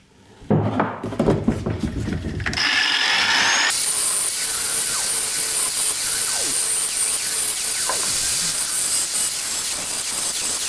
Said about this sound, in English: Let's grind a little bit more.